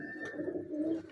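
Breeder pigeon cooing, a single soft, low throaty coo rolling for about a second, close by and quiet with no voices over it.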